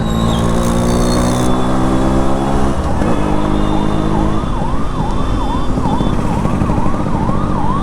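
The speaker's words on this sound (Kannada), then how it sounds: "ನೋಡಿ ಇಲ್ಲಿ ಆಂಬುಲೆನ್ಸ್ ಇದೆ" A loud ambulance siren wails close by at the Tumkur Dasara festival, cycling through rising and falling sweeps over steady traffic noise, with no one talking.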